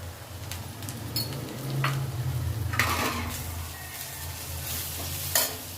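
A spoon stirs and tosses vegetables and rice in a hot pan for fried rice, steady sizzling with scraping strokes and a few metallic taps, close and continuous, no talk.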